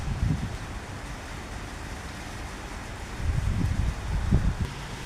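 Steady low rumbling strong wind buffeting the microphone at a window in Kuwait, with stronger gusts swelling near the start and again toward the end.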